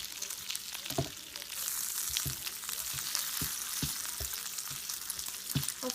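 Bacon sizzles and fries beside a bagel in a Range Mate microwave pan, a steady crackling hiss with occasional sharp pops and scraping stirs, no talking.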